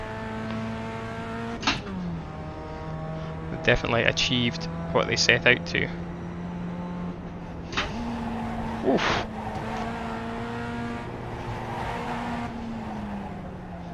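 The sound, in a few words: race car engine in virtual racing video game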